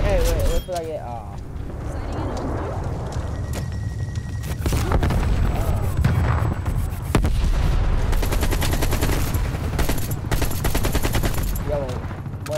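Sustained automatic AK rifle fire in Call of Duty Black Ops Cold War, dense rapid bursts running almost continuously and loud, with other game effects mixed in and a voice talking over it at the start and end.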